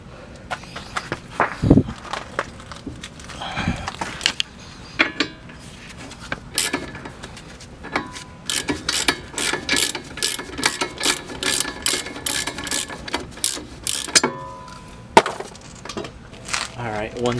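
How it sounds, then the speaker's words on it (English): A breaker bar loosens the 17 mm nut on the upper control arm of a Ford Fusion during wheel bearing work, with scattered metallic clicks, ratcheting and clunks at close range and no talking. "I'm actually just going to go ahead and use my breaker bar to loosen this up"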